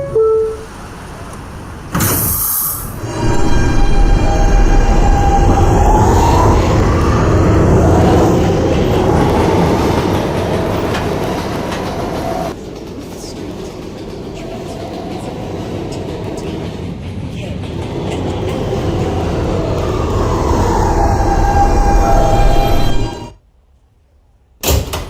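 A subway train runs along its rails, a loud, close, continuous rumble with clattering wheels and a high squeal. It swells and eases over the run and cuts out sharply near the end, with no speech.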